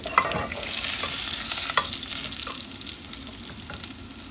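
Steady sizzling of garlic frying in hot oil for tempering, with occasional scraping and stirring clicks in a pan, close up and continuous.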